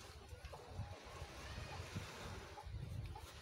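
Ocean waves wash onto a beach with a steady broadband roar, steady and fairly loud, as wind buffets the microphone and a dog runs about along the shore.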